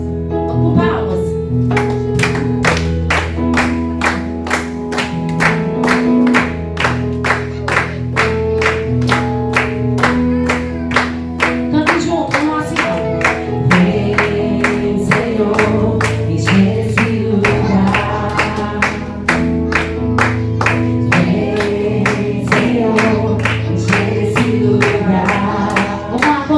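A church congregation claps along in steady rhythm to a worship song, with regular clap hits running through loud music and singing for the whole stretch.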